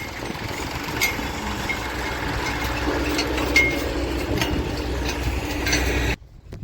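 A Hitachi excavator engine running at a farm field, a loud continuous rumbling drone with faint clanks, ending abruptly in near silence.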